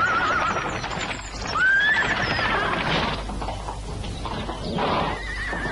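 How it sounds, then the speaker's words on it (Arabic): Horses whinny repeatedly in a short scene from an old children's Ali Baba and the Forty Thieves story, with high wavering neighs and a background of hoof clip-clop. The calls are loud and fairly close, and no one talks. "صهيل خيول"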